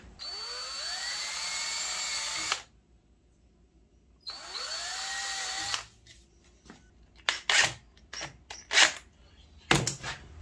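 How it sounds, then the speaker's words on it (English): A power drill drilling pilot holes whirs in two sustained bursts of a couple of seconds each, pitch rising as it spins up, followed by several short clicks and knocks. "Then I'm gonna pre-drill some pilot holes."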